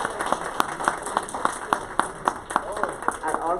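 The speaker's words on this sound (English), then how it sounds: "Please give them another round of applause." Audience applause for the Brentwood Children's Choir at a library event, a steady patter of many hands clapping at moderate distance, with sharper individual claps standing out and faint voices mixed in.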